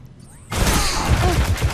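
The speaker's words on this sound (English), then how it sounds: "Now we're gonna test out the Kvastov. The Kvastov auto rifle." Khvostov auto rifle fired in Destiny, a dense burst of rapid gunfire that starts abruptly after a quiet moment and keeps a loud, continuous rattling roar to the end.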